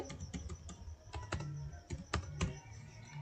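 Fingers tap out a login ID and password on a computer keyboard in quick irregular bursts of sharp clicks, with short pauses between runs of keystrokes and no voices over them.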